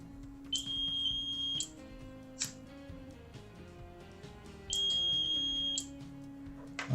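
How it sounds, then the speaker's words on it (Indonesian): A piezo buzzer in a homemade fire detector system sounds two steady, shrill beeping bursts of about a second each, separated by several seconds of quiet low hum, fairly faint overall. "Relay nyala, buzzer nyala."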